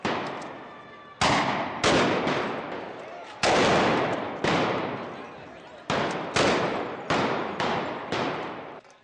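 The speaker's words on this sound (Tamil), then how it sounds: "இந்த போராட்டத்தை நிறுத்த போலீசார் ரப்பர் குண்டுகள் போடப்பட்ட துப்பாக்கியால் சுட்டு கூட்டத்தை கலைத்தனர்." Police guns fire rubber bullets to scatter a protest crowd in Madrid, heard as a run of about a dozen sharp, loud reports, some doubled, spaced irregularly over several seconds, each followed by a short ringing decay in open street air.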